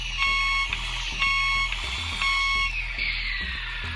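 Reversing beeps from the light and sound module of an RC Volvo FH16 truck: a steady series of loud, evenly spaced electronic beeps, close up, over a constant background hum, with no talking.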